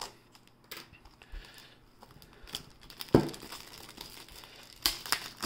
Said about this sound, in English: It's got this plastic off.